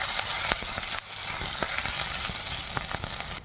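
Cumin, green chilli and grated ginger sizzle steadily in hot oil, a bright crackling fry with scattered sharp pops, close and fairly quiet.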